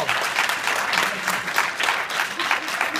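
Applause from an audience at a St. Nicholas children's event, a steady medium-loud wash of clapping in slightly pulsing waves.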